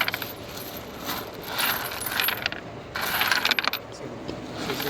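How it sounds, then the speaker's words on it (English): Metal washers spill and clink from an opened bag during factory acceptance testing of overhead line tower hardware, a steady close jangle with two louder bursts of tumbling metal. "We have opened the bag of washer"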